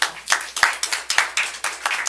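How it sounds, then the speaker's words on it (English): A small group claps at a school board meeting, with distinct, slightly uneven hand claps close to the microphone over roughly two seconds. "Let's give them a round of applause."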